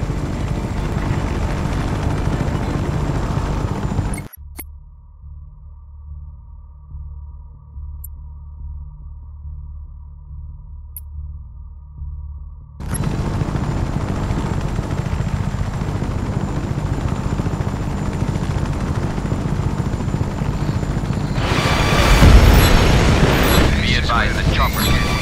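Helicopter in the video game Just Cause 3, a steady rotor drone under game music that drops out for several seconds mid-clip, then returns with a louder, rumbling pass near the end.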